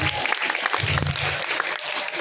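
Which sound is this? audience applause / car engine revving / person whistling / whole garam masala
audience applause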